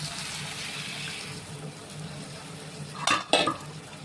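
Water poured into a pressure cooker pot holding jackfruit and potato curry, a short splashing burst with a clank of metal, over a low steady kitchen hum.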